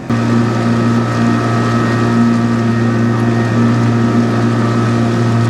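A motorboat engine drones loud and steady at close range on a lake in Maine, a constant low hum with no breaks and no voices.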